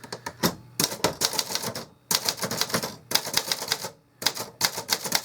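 Rapid typing on a 1970 Remington Streamliner II manual typewriter, bursts of sharp close keystrikes in quick runs separated by short pauses and a carriage movement, loud and alone.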